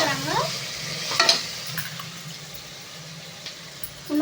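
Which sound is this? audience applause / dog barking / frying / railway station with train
frying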